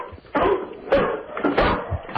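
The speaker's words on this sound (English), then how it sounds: "Get your dogs to bark." Several dogs bark together over a telephone line into a radio studio, a muffled, narrowband chorus of repeated barks and yips that overlap in uneven bursts.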